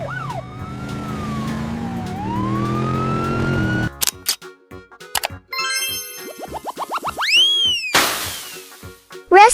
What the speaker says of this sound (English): This is a motorcycle ambulance.